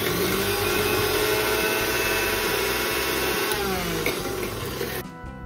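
A kitchen mixer grinder runs steadily, grinding coriander, green chillies and salt into a paste, its loud continuous motor whine and churning holding without pause before cutting off abruptly at the end.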